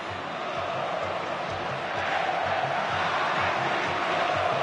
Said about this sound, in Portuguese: Torcida grita, eu acredito.